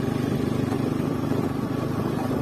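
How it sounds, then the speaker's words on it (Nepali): A motorcycle being ridden with a noisy chain guard, heard as a steady, close, pulsing drone. "कस्तो साउन्ड आएको चेन गाडको है"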